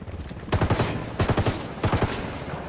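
Bursts of gunfire from Ghost Recon Wildlands, three loud rapid volleys of several shots each, spaced about half a second apart, with game background ambience between them.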